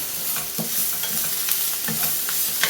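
Chicken frying with coriander stems and onions gets stirred in a pan on a switched-off burner, close spoon scrapes in an irregular rhythm over a steady hiss of sizzling, no talk.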